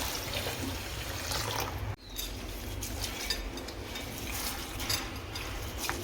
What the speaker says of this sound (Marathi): आता ही डाळ आपल्याला स्वच्छ अशी धुवून घ्यायची